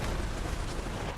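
An explosion in the video game Borderlands 3, a dense, sustained booming roar that fills the short moment at steady loudness with no talk over it.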